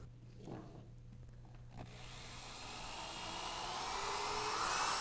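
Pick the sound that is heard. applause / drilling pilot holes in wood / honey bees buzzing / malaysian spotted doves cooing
drilling pilot holes in wood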